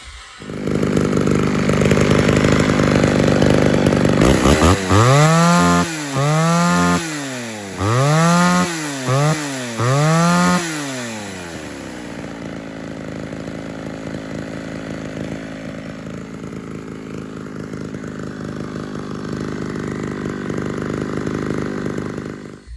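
Freshly sharpened chainsaw revving loudly up close, then biting into wood in several rising and falling cutting bursts before it drops back to a steady idle.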